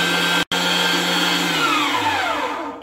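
An electric meat grinder minces soaked bread, a loud steady motor whine with a brief cut-out near the start, then the pitch slides down as the machine winds down, with no speech.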